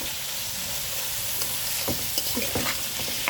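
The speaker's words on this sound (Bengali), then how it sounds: "ভালো করে নেড়ে ছেড়ে ভাজা ভাজা করতে হবে" Whole garlic fries in a pan for a chicken dish, giving a constant close sizzle with a few soft stirring knocks toward the end.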